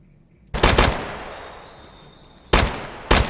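Gunfire in a video game replay of a Scav death: a loud, close burst of rapid shots with a ringing tail, then two more sharp shots after a pause.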